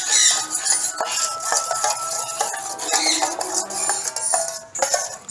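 A spoon stirring bird hand-feeding formula with neopeptine in a small dish, with quick, close clinks and scrapes of metal on the dish in steady bursts, with no voices.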